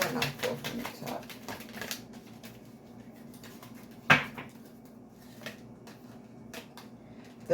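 A deck of tarot cards is shuffled close by, with a quick run of soft riffling flicks at the start, then quieter rustling and a single sharp tap.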